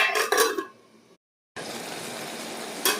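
A lid clatters onto a pot of dried fish curry frying in oil. A brief pause follows, then a steady, close sizzle of frying under the lid.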